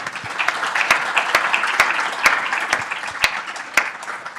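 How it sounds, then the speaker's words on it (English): A small indoor audience claps in a warm round of applause, sharp individual claps standing out over a steady pattering wash for several seconds. "Let's give a round of applause for that."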